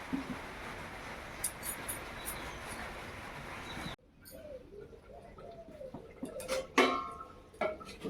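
A clay handi of chicken with a little water is being covered with its lid: a steady hiss cuts off, then a few hollow clinks and scrapes of earthenware follow, with faint birdsong nearby.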